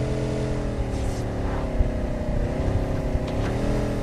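Amphibious vehicle engine in PUBG Mobile, a loud, steady motor drone with layered harmonics that holds throughout and lifts slightly in pitch near the end as it revs.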